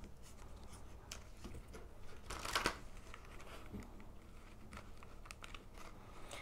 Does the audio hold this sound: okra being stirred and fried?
no